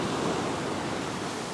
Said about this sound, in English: You can see the waves breaking out the back.